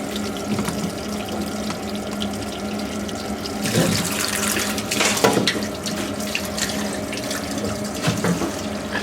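Water runs steadily from a tap into a sink, a continuous splashing flow with occasional clatters as goose pieces are rinsed under it.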